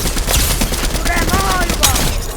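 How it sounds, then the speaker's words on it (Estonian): Rapid bursts of gunfire in the video game Fortnite crackle through a busy, noisy game mix, with quick repeated shots over constant background sound. "Oi, ma kuulsin laskmist!"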